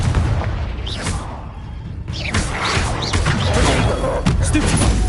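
A Confringo explosion spell cast in Hogwarts Legacy lands as a heavy boom amid dense, noisy combat effects, with further impacts and whooshes following close behind.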